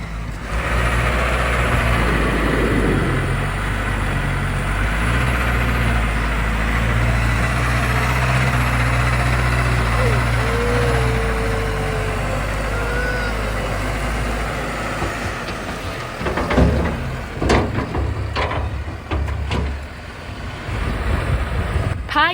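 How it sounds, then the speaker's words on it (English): A digging tractor's engine drones steadily and heavily as it works gravel on a farm road, with wind buffeting the microphone and some scraping and clattering toward the end. "Kip and Finn play in the gravel as they watch the tractor at work."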